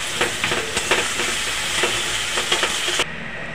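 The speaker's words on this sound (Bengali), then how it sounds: "দিয়ে ভালো করে মশলাটাকে কষিয়ে নেব" Spices with Kashmiri chili powder and a splash of spice water frying in a pan, a loud continuous sizzle with a regular scrape of stirring on top, cutting off sharply near the end.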